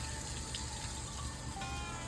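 Water running steadily from a horse bubble bath machine (Cocojor Minicle Bubble) being flushed until it runs clear, a continuous close hiss and gush with no talk.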